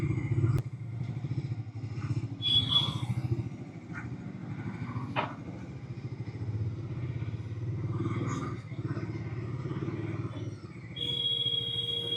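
A Bajaj Dominar 250 touring motorcycle hums along steadily at cruising speed, its low engine drone continuous and close, with a few faint clatters and a brief high tone near the end.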